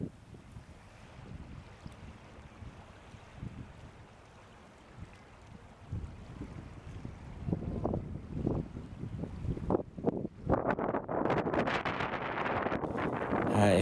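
Wind blowing outdoors across an open microphone near a Canada goose with her goslings, low steady buffeting that grows into stronger, louder gusts and rumbling blasts toward the end.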